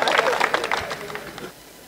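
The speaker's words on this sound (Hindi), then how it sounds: "एक बार तालियां बजाएं आप सुल्तान साहब के लिए" An audience claps for Sultan Sahab: a short burst of dense applause that fades out after about a second and a half.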